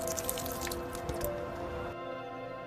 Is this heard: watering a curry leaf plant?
yes